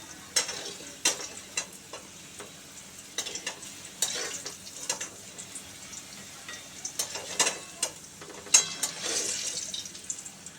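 Fried potatoes being lifted out of hot oil: scattered soft clinks and scrapes of a utensil over a faint background sizzle, with irregular small knocks throughout, no talking.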